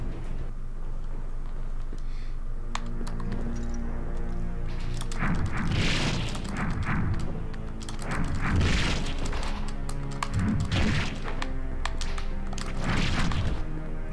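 Bombs go off in the Sword of the Berserk: Guts' Rage video game, a run of heavy booms and crashing blasts layered over steady game music, growing denser partway through, with no talking.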